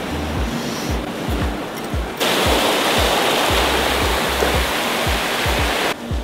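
Seawater splashes and rushes at a Hawaii shoreline as freshly caught uku fish are rinsed, a loud continuous wash with rhythmic low surf thumps throughout.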